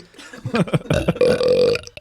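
A man burps long and loud straight into a microphone, a deep drawn-out belch with a rough, voiced rumble lasting over a second, close and dry.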